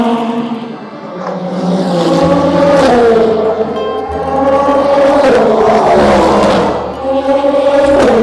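Race cars roaring loudly around the Le Mans circuit during hyperpole qualifying, engines droning and shifting in pitch as they pass close by, continuous and loud with faint crowd noise beneath.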